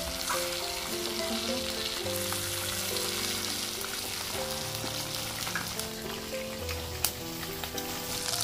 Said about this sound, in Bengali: তো মাছটা ভাজা হয়ে গেছে